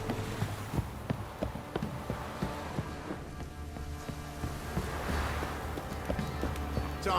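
Horse hooves clop in the video game The Witcher 3: Wild Hunt in a quick, irregular rhythm over a soft hiss, the steps fairly close and moderately loud, with no speech.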